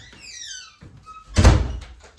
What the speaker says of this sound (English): I'm just going to close this door because I was outside